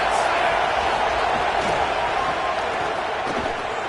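Stadium crowd noise at a college football video game, a loud, dense, continuous roar of the crowd throughout.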